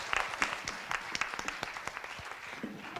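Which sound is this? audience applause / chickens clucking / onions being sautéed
audience applause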